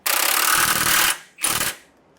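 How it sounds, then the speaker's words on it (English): Two bursts from a power tool tightening a bolt on a Roadmaster rear anti-sway bar on a 2018 Ford F-53: one loud sustained whir of about a second, a short pause, then a briefer second burst, close by. "I'm about to torque that right back down"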